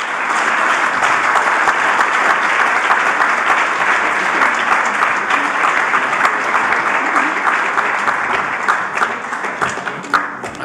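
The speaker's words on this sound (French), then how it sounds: "Je vous prierai d'applaudir les participants" A crowd at a Swiss federal election debate gives participants long, dense, loud applause that stays full and steady for about ten seconds before thinning into a few scattered claps at the end.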